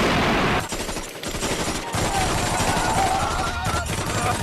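Gunfire in a video game, dense bursts of automatic fire and shots crackling loud and close, with brief gaps between volleys, over continuous game noise.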